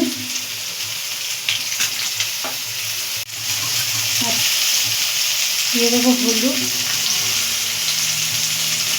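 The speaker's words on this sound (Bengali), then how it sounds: "এর মধ্যে আমরা ক্যাপস গাজর বিনস এবং ক্যাপসিকামগুলো ভেজে নেব" Carrots, beans and capsicum fry in a pan with a continuous, loud sizzle and occasional stirring scrapes, while someone talks over the cooking.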